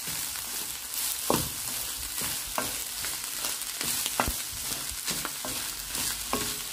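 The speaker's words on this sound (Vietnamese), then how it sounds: "Giờ mình chỉ xào lên thôi." Instant noodle fried rice being stir-fried in a pan, a continuous sizzle with scattered scrapes and clacks of a utensil turning the food, close and moderately loud.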